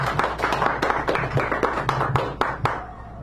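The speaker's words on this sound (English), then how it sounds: "Give her a round of applause" A small café audience at a poetry reading gives a short burst of scattered, close-up hand clapping that fades out after about three seconds.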